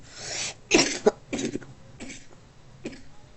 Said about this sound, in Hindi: खांसी बहुत आ रही है आज।